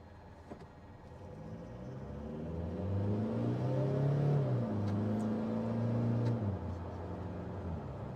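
A Toyota Hilux engine drones as it drives, a steady low rumble that rises in pitch as it accelerates, holds a higher whirring tone, then drops back as the revs ease, heard from inside the cabin without talk.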